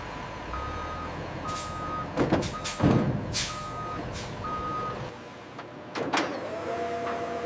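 A transport truck backs up at a sugar factory loading area, its reversing alarm beeping in an even repeated pattern over engine rumble, with loud air-brake hisses and mechanical clunks close by.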